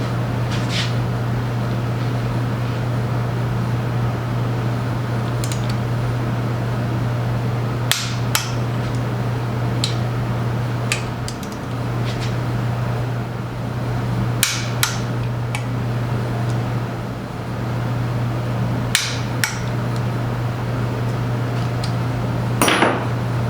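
Torque wrench tightening a Triumph Spitfire gearbox bolt to 30 foot-pounds: a few sharp, isolated metallic clicks spaced seconds apart over a steady low workshop hum.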